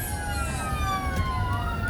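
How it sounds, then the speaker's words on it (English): A wailing ambulance siren rises and falls continuously over low traffic rumble on Pacific Coast Highway in Lomita, California, sounding fairly close and steady. "It was an ambulance."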